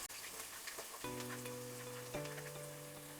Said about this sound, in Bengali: হালকা ব্রাউন করে পেঁয়াজটাকে আমরা ভেজে নেব